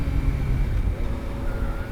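Motorcycle engine droning steadily at close range, a low rumbling hum that holds even throughout the short stretch.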